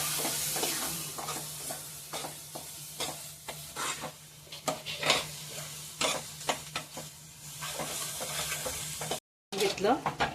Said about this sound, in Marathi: ते पण तेलात चांगले भाजून घ्यावे, मग चव चांगली येते। तेल सुटेपर्यंत भाजून घ्यायचे।